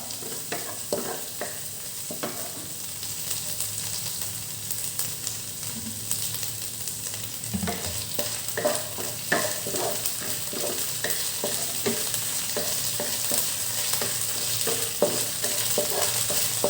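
Garlic and shrimp paste stir-fry in a pan under a constant bright sizzle, with a spatula scraping and tapping at an uneven rhythm throughout, close and steady with no voices.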